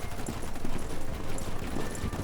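Horse hooves clip-clop steadily along a road, a samurai's old saddled horse heading toward the shogun's capital, the even rhythm sitting under a dense, noisy background.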